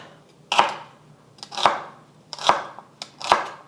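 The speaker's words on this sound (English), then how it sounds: "I think I'm just going to chop them up into about 1/2 inch sized slices." Celery stalks being sliced with a knife into half-inch pieces for a cashew chicken, four crisp, evenly spaced chops on a cutting board, close and clear with no talking.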